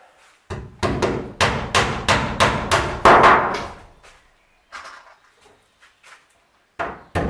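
Hammer strikes drive nails into a wooden board being fitted on a sailboat, about eight sharp, loud, evenly spaced blows in a quick series, followed by quieter tapping and a couple more knocks.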